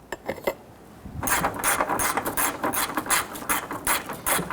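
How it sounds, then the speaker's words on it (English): A ratchet tightens bolts under the hood of a 2005-2021 Nissan Frontier 4.0L V6 during a coolant reservoir replacement, giving a close, steady run of rapid clicking after a few faint knocks. "So we get our ratchet down inside there."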